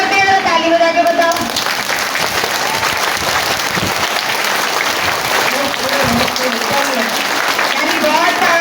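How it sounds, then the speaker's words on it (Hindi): Children and adults at a school Mother's Day assembly break into loud, sustained applause. A voice speaks briefly at the start, then dense clapping continues to the end. "ताली बजा के बताओ"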